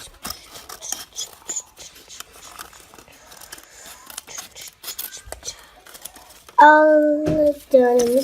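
Scissors snipping through paper to cut out a hand shape for a Halloween window ghost craft, with repeated short crisp cuts and rustles up close, followed by a voice speaking near the end.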